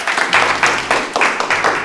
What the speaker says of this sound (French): On s'applaudit très fort.